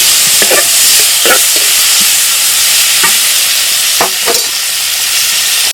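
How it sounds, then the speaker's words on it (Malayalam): Tomato, chopped green chili and onion sauté in sizzling coconut oil, a loud steady hiss broken by several short scraping strokes of a spoon stirring the pan, with no talk. "കുറച്ച് വെളിച്ചെണ്ണ ഒഴിച്ചു കൊടുക്കാം ഇതിലേക്ക് അല്പം തക്കാളി കുറച്ച് പച്ചമുളക് അരിഞ്ഞത് ഒരു ഉള്ളി ഇതെല്ലാം കൂടെ നമുക്കൊന്ന് വാർത്തിയെടുക്കാം"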